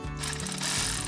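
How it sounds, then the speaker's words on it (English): A rusty clamp on a 2006 Chevy 2500 HD, treated with penetrating oil, is loosened with a ratchet, giving a close, continuous run of rapid mechanical clicks. "You need to keep loosening this clamp."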